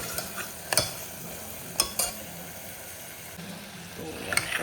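Masala frying in oil for chole, a soft low sizzle with a few sharp clinks of a spoon against the pan spaced through it, at moderate distance with no talk.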